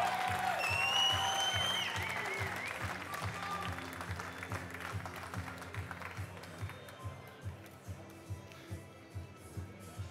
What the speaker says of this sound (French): on lui fait savoir à Marco un petit tour d'encouragement et d'applaudissements.